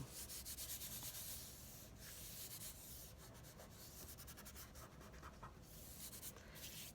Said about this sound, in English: I'm going to press and give it a little bit of a rub